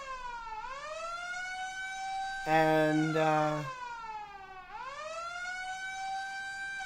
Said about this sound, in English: you start to hear the sound of police sirens in the distance